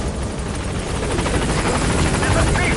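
A helicopter in Metal Gear Solid 5 drones steadily as a loud, continuous rotor-and-engine roar that holds even throughout, with no voices.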